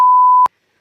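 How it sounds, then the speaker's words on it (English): A single censor bleep, a steady pure electronic tone about half a second long, cuts off abruptly with a short click and leaves silence behind. "You're beeping me out."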